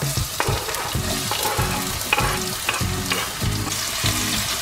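Chopped garlic frying in oil for a restaurant-style veg Manchurian gravy, a loud, busy sizzle with regular spatula strokes scraping and knocking against the pan about twice a second.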